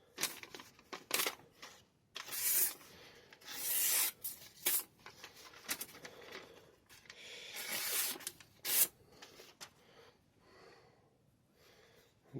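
An Elmax steel knife with a saw-like serrated edge bites into material in a series of short, rasping scraping strokes, each a brief hissy rub separated by pauses, quiet and close.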